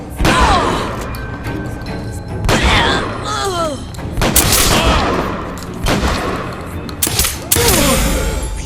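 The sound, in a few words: gunfire in BioShock Infinite video game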